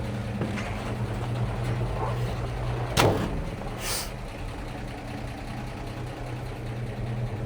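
1957 Chevrolet 3100 pickup engine running during a test drive, a low steady rumble throughout with a brief sharp clunk partway through, moderately quiet.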